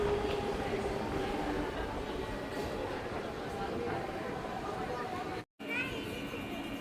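A MEMU passenger train standing at platform 3 of Haveri railway station, with a steady low rumble and a constant wash of station noise throughout, plus background voices.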